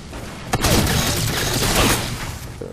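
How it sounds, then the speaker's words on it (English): In a sci-fi shooter video game a shotgun fires with a sharp blast, then loud rumbling gunfire and explosive noise roll on for about two seconds before fading. "It's a shotgun."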